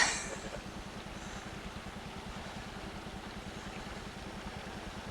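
A boat motor idles with a low, regular chugging pulse, steady and moderately distant, with no voices.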